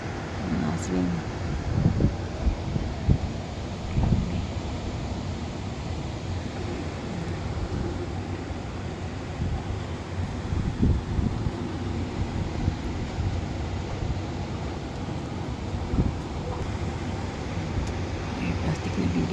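Gusty wind blows outdoors high up in Hong Kong, rumbling and buffeting against the microphone in uneven bursts that run steadily throughout, with a faint voice speaking now and then underneath.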